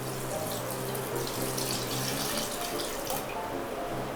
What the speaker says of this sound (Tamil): இது வந்து நம்ம மட்டன் வேக வச்ச தண்ணி தான் இதில் ஊற்றிருக்கேன்